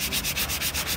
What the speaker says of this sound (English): All right, here comes the sanding.